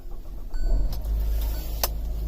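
A 2019 Hyundai Tucson Preferred engine starts up nearby, with a brief starter burst giving way to a steady low idle hum.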